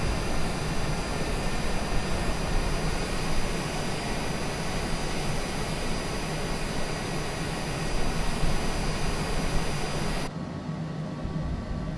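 Airplane engine noise inside Microsoft Flight Simulator during a flight in a Cessna Citation C700 from Teterboro to Toronto Pearson: a steady, loud jet roar with broadband hiss, no voices, cutting partly quieter near the end.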